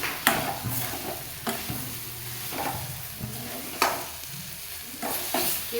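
A spoon stirs ground spices and amla together in a pan, giving repeated scraping strokes at a steady rhythm over a soft sizzle, close and fairly clear with no talking.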